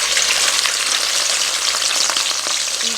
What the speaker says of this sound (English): I'm gonna lower the fish into the pot just like that